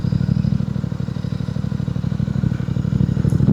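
Royal Enfield Continental GT 650 motorcycle engine running close up on a road trip toward Manali, a steady, rapid thumping exhaust beat with mechanical clatter.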